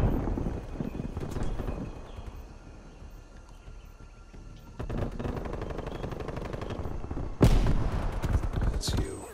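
Gunfire in the video game Call of Duty: Cold War, heard as a few loud, sharp bursts over a steady busy game background, with one especially strong crack near the end.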